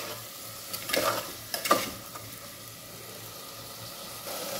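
Leafy spinach and fenugreek greens being sautéed and stirred in a pan over a medium flame, with two short bursts of scraping and stirring over a faint, steady low sizzle, no voices.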